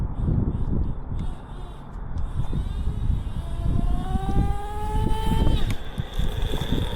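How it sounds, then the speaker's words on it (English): A car engine rises and passes close by, with a steady rising whine over continuous engine rumble. "Car coming."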